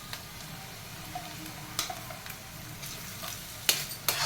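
Onions and ground paste fry in oil in a pan for a lentil patoli dish: a steady low sizzle up close, punctuated by occasional sharp scraping clicks of stirring.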